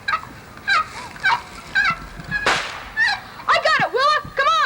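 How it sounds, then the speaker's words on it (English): Wild turkey hen calling to a nearby gobbler, a series of sharp rising yelps and clucks that speed up into a cluster near the end, with one brief whooshing burst partway through. "It's a wild turkey."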